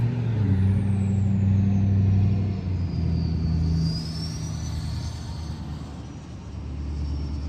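A truck passing close by, its heavy engine rumble loud and steady, then easing as it moves on, with a high hissing whine of air brakes sweeping across the middle.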